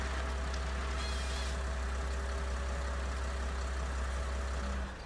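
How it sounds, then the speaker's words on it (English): A vehicle engine idles in Farm Sim 19 with a steady low drone and a constant hum, then drops slightly near the end as it is shut off. "Let me turn that engine off here."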